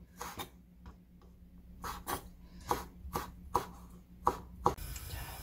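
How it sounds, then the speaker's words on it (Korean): A knife chops beef finely on a board, with sharp, close knocks at first scattered and then coming in a quicker, steady run, with no talking. "그래서 좀 잘게 잘게 이렇게 좀 썰어주세요."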